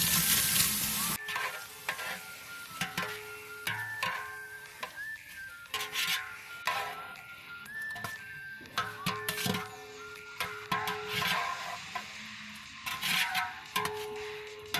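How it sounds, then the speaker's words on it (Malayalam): Pressure-cooked beef goes into a sizzling masala for Kerala-style beef dum biryani; close hiss and spatter with intermittent clatter and scraping from stirring, rising and falling in short bursts, no talking. "ബീഫ് ചേർത്ത് കൊടുക്കാം. നമ്മൾ കുക്കറിൽ വേവിച്ചതാണ്,"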